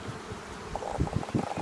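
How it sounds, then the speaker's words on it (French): Honeybees buzz around an open hive during a spring inspection, a quiet, steady hum with a few louder passes as bees fly close. "les abeilles qui fabriquent la cire"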